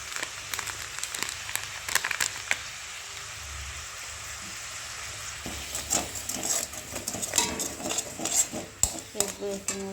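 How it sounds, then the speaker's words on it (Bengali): Spice masala with Kashmiri chilli powder being sautéed in a pan, a utensil scraping and clinking against the metal in irregular strokes over a low sizzle, with the activity growing busier and louder toward the end. "এরপর একটু মশলাটি কষতে দেবো।"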